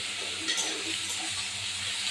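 Chopped onion and slit green chillies sizzle in a pan for a Bengali fish curry, a steady close frying hiss under light stirring.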